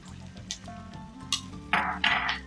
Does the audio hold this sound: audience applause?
no